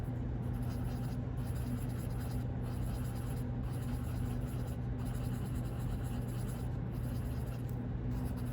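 A colored charcoal pencil rubs lightly across paper in a steady, soft scratching that continues without a break, over a low constant background hum.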